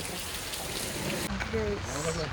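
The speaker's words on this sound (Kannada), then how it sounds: "ಮಳೆ ಸಕ್ಕತ್ತಾಗಿ ಮಳೆ ಬರ್ತಾ ಇದೆ" Heavy rain pours down steadily at Talacauvery in Coorg, a dense close hiss of drops on surfaces with a faint voice and a brief shift in the middle.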